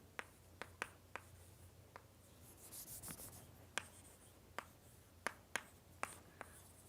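Writing on a board during a lecture: sharp taps and scratchy strokes recur irregularly at close range, with a brief rubbing passage in the middle, over a quiet room.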